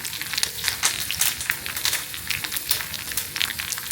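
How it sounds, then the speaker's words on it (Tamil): Oil with mustard seeds and curry leaves sizzles and crackles steadily while tempering for a mutton kulambu, with dense popping bursts close up and no talking. "கடைசியாக தாளிக்கிறதுக்கு தேவையான ஆயில், கடுகு, கருவேப்பிலை போட்டு அதெல்லாம் பொரிஞ்சதும்"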